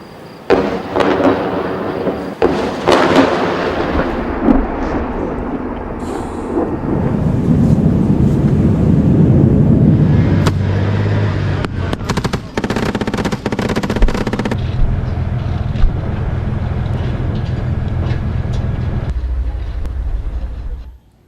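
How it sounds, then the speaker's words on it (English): Heavy bombardment in the Gaza war zone: loud booming blasts and rumbling explosions with sharp cracks, and sustained roaring, echoing thunder-like rolls overlapping across the whole stretch. "Heavy bombardment by Israel continues."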